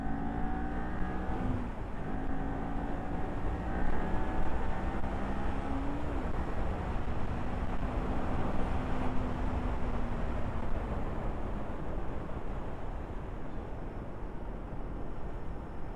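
A Kawasaki Ninja 400 motorcycle engine runs steadily with a continuous, loud droning hum and slight shifts in pitch as the throttle eases, close by and without talk.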